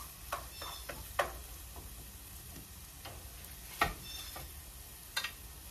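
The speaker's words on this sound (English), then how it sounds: "I'm gonna put my onions and brown that up a little." Onions browning in hot coconut oil in a pan, a soft steady sizzle broken by several sharp scrapes and clicks of a spoon stirring, close by, with no talking.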